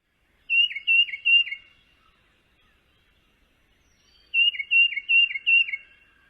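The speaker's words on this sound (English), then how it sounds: "Their name comes from the chickadee-dee-dee sound" A black-capped chickadee in winter in Ohio gives its chickadee-dee-dee call twice, a quick run of three high notes and then four, clear and close against silence.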